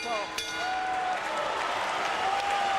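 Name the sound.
crowd cheering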